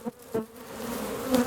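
Honeybees hum steadily around their apiary hives after a spell of bad spring weather, a close, continuous buzz with a few louder passes as bees fly near.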